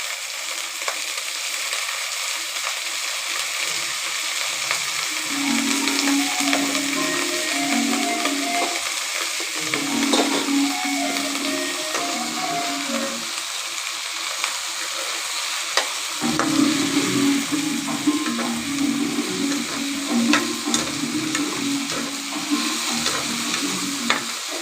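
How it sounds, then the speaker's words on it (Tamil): Eggplant sizzles and fries in a pan as a spoon stirs it, with steady frying hiss and repeated scraping and stirring strokes, close and moderately loud, no talking. "நல்லா வதக்கி விடுங்க"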